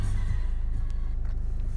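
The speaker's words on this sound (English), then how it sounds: "When I turn the car on," A 2018 Peugeot 2008 1.6 BlueHDi diesel engine starts up and settles into a low, steady rumble heard close by, with no voices in the brief stretch.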